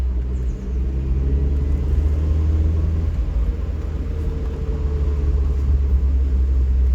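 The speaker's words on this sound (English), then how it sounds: "It's such a small car with a quite big engine." A Daihatsu Copen 1.3 16v non-turbo sports car cruises along on a drive, giving a steady, close low engine drone and rumble with road noise and no speech.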